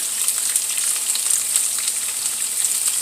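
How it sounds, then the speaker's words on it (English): Small vegetables sauté in a hot pan, giving a steady, dense sizzle with a continuous fine crackle that holds at an even level throughout, close and alone with no talking. "I'm just going to saute these until they're crisp tender"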